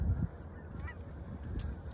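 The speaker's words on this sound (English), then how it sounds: "Birds are flying over. We still have birds flying over right now trying to land." Geese honk while flying over a field of decoys during a hunt, a few distant calls over a low rumbling background of wind or handling noise.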